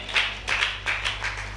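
A women's church meeting audience claps in a short run of about five hand claps, brisk and close, over a low steady hum.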